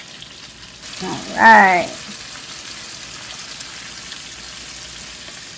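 Shrimp sizzle in a hot pan, a steady soft frying hiss running throughout at moderate level, with a short spoken remark near the start.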